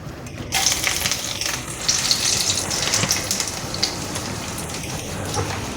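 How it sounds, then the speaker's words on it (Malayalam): Mustard seeds splutter in hot oil with a dense, continuous crackling hiss full of rapid small pops, loud and close, running unbroken after a brief quiet start. "നന്നായിട്ട് കടുക് പൊട്ടിയിട്ടുണ്ട്"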